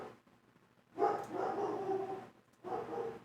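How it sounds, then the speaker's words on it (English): A dog barks nearby in two short bursts of rough, rapid barks separated by a brief pause, fairly loud against a quiet room. "Why is the dog barking?"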